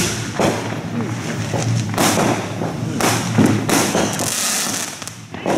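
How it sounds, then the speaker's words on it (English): Independence Day fireworks over a street celebration on 7th Avenue in Chicago, 2016, give repeated booming thumps and crackling bursts. The explosions are loud and come every second or so over a constant background of crowd noise. "It's fireworks, y'all."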